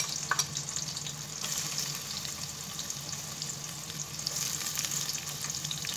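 Chicken pie frying in hot oil, a steady close sizzle with crackling pops scattered across it, continuous and fairly quiet with no talking.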